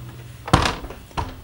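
A door in the master bedroom of a 2014 Forest River Cardinal 3850RL fifth-wheel RV is worked, giving a firm close-range thunk followed about half a second later by a second lighter knock, with no talking.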